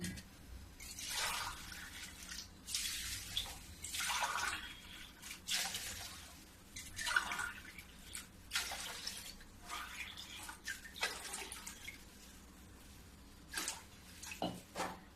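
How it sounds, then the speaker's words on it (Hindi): Water is poured glass by glass into a pan while making rasgulla sugar syrup, giving a series of splashing pours separated by short pauses, close and moderately loud, with no talk. "अब मैं इसमें 8 गिलास पानी डालूंगी।"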